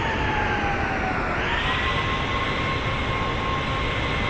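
Steady, loud jet engine drone from a Boeing 767-300ER in the X-Plane 12 flight simulator, a continuous roar with a sustained whine whose pitch climbs slightly partway through, with no talking.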